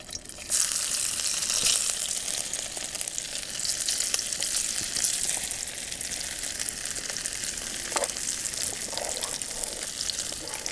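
Steady, loud sizzling of hot fat in a frying pan while cooking outdoors, a dense crackling hiss running throughout with a few brief clinks near the end.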